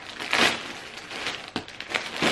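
Crinkling plastic packaging from a clothing order rustles and crackles close by in irregular bursts as it is opened, with no voices.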